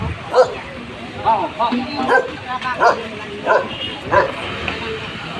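A dog barks and yips several times nearby in an excited, irregular series, mixed with people talking in the background.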